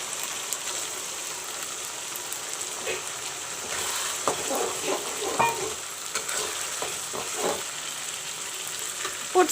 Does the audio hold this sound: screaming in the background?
no